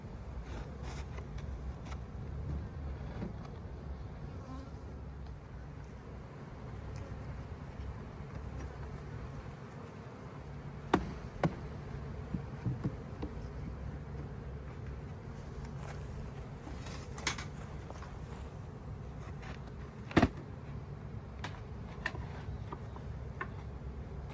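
A steady low buzz of many honey bees around a hive during a hive inspection drones on continuously, with a few sharp clicks and taps scattered through.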